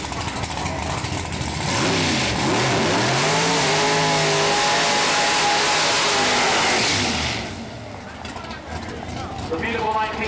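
A 1955 Chevrolet shoebox Pro Modified drag car roars at a dragway, its engine loud and sustained at full throttle for several seconds before easing off, with an announcer talking over it.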